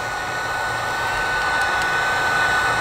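A heat gun blows a steady, even whoosh of hot air onto adhesive tape on a car reflector, a close, continuous rushing hum with no pauses.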